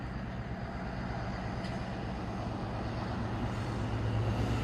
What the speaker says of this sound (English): Here's your freight train.